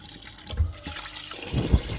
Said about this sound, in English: I am going to use glutinous rice and just keep on washing it until the water is clear.